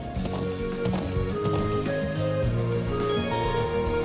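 Horse hooves gallop in Legend of Heroes: Trails of Cold Steel, a quick, steady clip-clop over game music and ambience.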